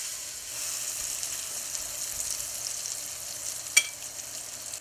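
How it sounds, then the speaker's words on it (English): Plantains frying in oil, a steady soft hiss of sizzling throughout with one brief sharp tap near the end and no voices. "I'm going to fry them"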